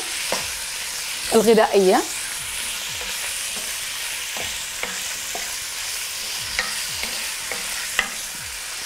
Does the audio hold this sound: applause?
no